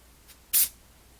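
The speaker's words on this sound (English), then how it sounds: "Even that second spray was pretty heavy." Spray paint can hissing onto a NASCAR diecast model, a faint short puff followed by one heavier, louder burst of spray, then quiet.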